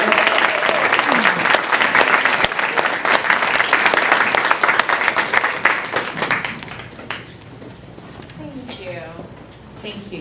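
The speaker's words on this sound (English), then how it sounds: "Should we give Lauren like a huge rousing round of applause here" A rousing round of applause at a school coffee-and-conversation meeting, loud and dense at first, then thinning into scattered claps as talk resumes near the end.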